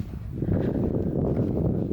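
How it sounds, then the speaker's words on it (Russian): Wind blowing outdoors at a Buddhist datsan temple complex, a steady low rumbling buffet against the microphone that holds at an even level throughout, with no voices. "Я надеюсь, что меня будет слышно, потому что ветер все равно имеется."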